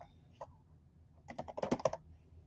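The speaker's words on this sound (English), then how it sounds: "And let's just type in a word here." A computer keyboard is tapped in two bursts: a single keystroke, then a quick run of about eight clicks as a word is typed. The sound is close but quiet in a still room.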